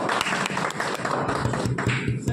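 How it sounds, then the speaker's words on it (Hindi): Audience clapping at a police office gathering, a dense patter of hands mixed with sharper taps and occasional thumps, steady and moderately loud across the whole stretch. "ताली बजा"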